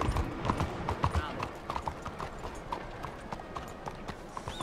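Hooves of a horse clip-clop on a street in Red Dead Redemption 2, a steady walking rhythm of close hollow knocks, with in-game voices speaking over them.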